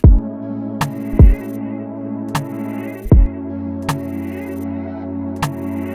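Tambourine percussion loop, filtered and matched with another sound, repeating in a steady rhythm of sharp hits with low thumps every second or so, close and clear with no talk.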